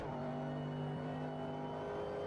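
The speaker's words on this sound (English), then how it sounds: "I rely a good bit on engine braking as I downshift" A GT3 race car in RaceRoom engine braking through downshifts: a sustained droning engine note with a brief dip and shift as the revs change, continuous and close, with no talking.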